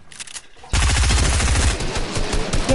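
SMG fire in a shooter video game, a loud rapid automatic burst starting abruptly and running continuously for about two seconds, close up and alone without talk.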